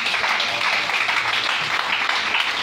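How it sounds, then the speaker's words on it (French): A church congregation applauds at an evening service, steady crowded clapping from a room full of people, continuous and fairly loud throughout. "On acclame la parole."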